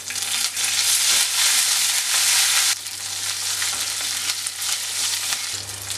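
Raisins fry in a pan for banana spring rolls, a loud, close sizzle that eases partway through to a softer steady frying hiss, no voices.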